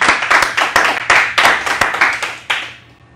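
A small audience claps for Jaime, a speaker on politics, at Plaza San Martín: sharp, loud, irregular hand claps for about two and a half seconds before stopping abruptly, with a brief ring-out and no talk.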